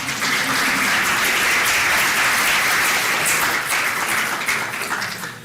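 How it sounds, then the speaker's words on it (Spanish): A university panel audience applauds, a thick, steady burst of clapping filling the whole stretch and easing slightly near the end. "Un aplauso para Inglaterra por su decisión política."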